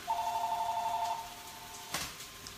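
A phone rings with a warbling electronic trill for about a second before cutting off, followed by a brief clatter in a kitchen.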